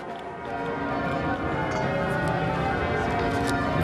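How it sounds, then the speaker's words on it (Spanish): Several bells ring an alarm peal together in a dense, continuous clangor that swells in and stays loud, with faint talk mixed into the din. "Las campanas sonaban a rebato"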